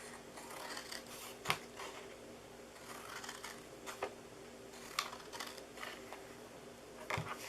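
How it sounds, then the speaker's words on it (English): Scissors snip through a paper treat bag along its sides. Several crisp, close cuts come at an irregular pace over soft rustling of the paper, and no one speaks. "Now to cut this, we are going to cut it on the sides here."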